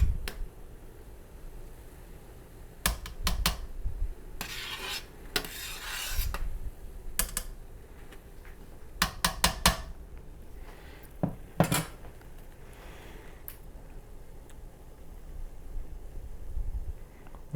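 Metal spoon scraping and clanking against a homebrew kettle as ingredients for a Kolsch are stirred in, a scattered series of close clinks and rasping scrapes over a quiet background hum.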